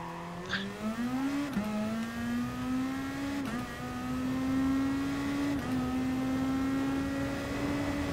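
Race car engine in Gran Turismo Sport holding high revs near the limiter, a steady droning whine that climbs slightly with a few brief gear-shift dips, heard alone.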